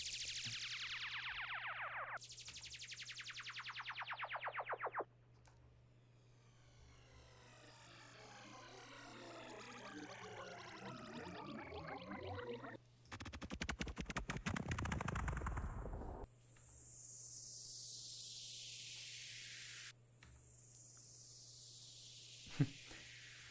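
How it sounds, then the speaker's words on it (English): Synthesized downlifter effects in an electronic music project sweep downward in pitch, with sharp descending noise sweeps and a longer falling tonal glide, loud and alone over a low steady hum. "So now we're on to the Downlifters"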